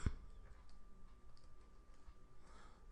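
A computer mouse gives one sharp click near the start while a book cover for The Habits and Secrets of Fish is designed, followed by a faint steady room hum.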